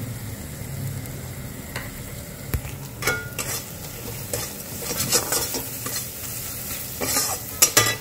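Masala stir-fried in a pan, steady sizzling under repeated scraping and clinking of a spatula against the metal, close and fairly loud, with louder stirring strokes toward the end.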